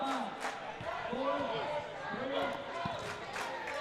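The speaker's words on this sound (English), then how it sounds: "Crowd's getting louder." Crowd noise at the Canadian National Dodgeball Championships hums and swells steadily behind a commentator's continuous talk, with a few sharper cheers and ball bounces rising above it.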